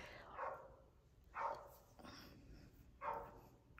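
A dog barks three separate times at a distance, faint and spaced out in a quiet indoor room.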